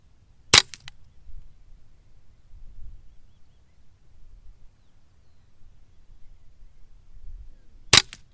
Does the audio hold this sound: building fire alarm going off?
no